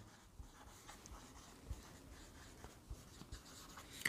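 A pen scratches across a board during a maths lesson on rational numbers, giving soft, continuous strokes with small bumps of emphasis, fairly close and faint, with no talking.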